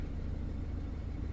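A BMW 116i engine with a misfire runs with a steady, dense low rumble close by, its fairly even drone carrying no voices.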